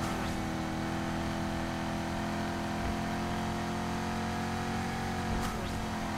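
A Corvette in the racing game Need for Speed Heat drones along at steady high revs, a loud continuous engine hum with sustained harmonics and no break across the span.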